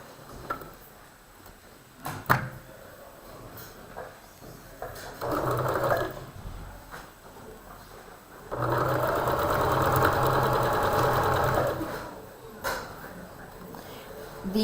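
A sewing machine, not the usual one, stitches a quilt seam in two long runs of steady mechanical whirring, separated by quieter handling sounds and brief taps.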